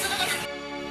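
A single goat bleats once, loud and near, a short wavering cry that stops abruptly, with no talking over it.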